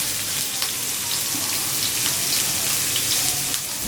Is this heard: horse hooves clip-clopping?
no